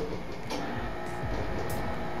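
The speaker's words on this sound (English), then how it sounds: "This is not a washing machine, it's actually a high-speed centrifuge." A high-speed laboratory centrifuge for larger tubes runs steadily, giving a continuous broadband whir and hum with a faint high whine, constant in level and close by; no talking.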